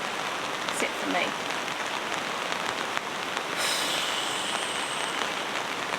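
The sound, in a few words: heavy rain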